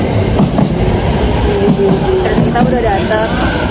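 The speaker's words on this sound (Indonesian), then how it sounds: "So, kereta kita udah datang." A train rumbles and clatters close by, with a steady low roar and faint squealing tones as it arrives at a station in Japan, while a voice talks over it.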